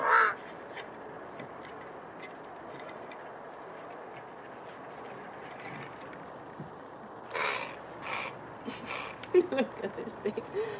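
A pet crow caws in its home yard, with a single call at the start and a louder cluster of harsh caws near the end over a quiet outdoor background.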